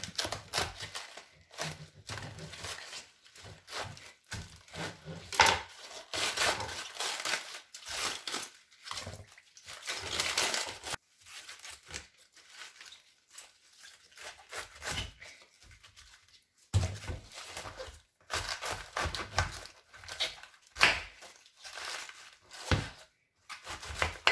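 Washed cabbage and spring onion are sliced with a knife for pickled cabbage, giving rapid irregular chopping taps against a board in bursts separated by brief pauses, fairly quiet and close.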